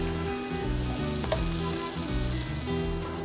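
A rack of lamb with herbs sizzles steadily in the pan as it is basted during cooking, a continuous moderate frying hiss with faint utensil movement and no talk.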